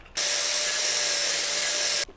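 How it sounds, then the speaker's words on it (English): An angle grinder runs steadily at full speed in a welding shop for about two seconds, a loud continuous high whine with a hard start and stop and no talking. "And now for a welder's best friend, a grinder."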